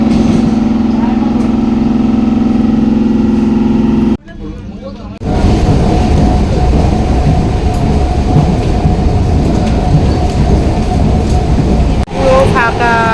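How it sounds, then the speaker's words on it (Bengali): Rumbling interior of a moving suburban passenger train out of Ranaghat, a steady loud roll with a sharp drop around four seconds, then heavier rattling clatter resuming; background voices murmur. "রানাঘাট থেকে এই যে ট্রেনে উঠে পড়েছি"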